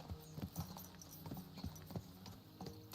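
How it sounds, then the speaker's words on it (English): Horses' hooves clip-clop in Kingdom Come: Deliverance II, a steady rhythm of fairly faint hoofbeats at a trot under soft background game ambience, with no one talking. "Let's really spur these horses on, eh?"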